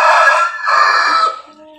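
A village rooster crows loudly and close by, two drawn-out strained calls back to back with a faint tail afterward.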